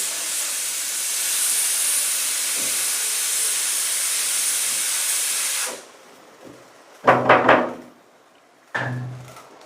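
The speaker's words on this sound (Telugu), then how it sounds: "పొంగుతుంది" A pot boiling over on a gas stove gives a steady, loud hiss of steam for several seconds, then cuts off, followed by a few short clattering bangs and a voice nearby.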